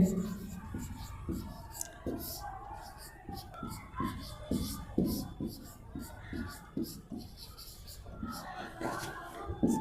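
Chalk or marker scratching and tapping on a board during a Class 10 science lesson on electric current and resistance problems, a run of short strokes at close range, with soft breathy noise and no clear speech.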